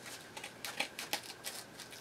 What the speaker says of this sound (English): These are utility scissors